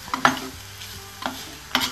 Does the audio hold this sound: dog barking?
no